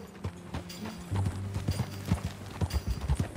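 Horse hooves clip-clop in a quick, steady rhythm as a rider gallops across open country in the Red Dead Redemption 2 video game, close and prominent with no talking.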